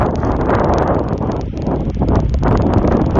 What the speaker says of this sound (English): Pretty windy. It's pretty windy.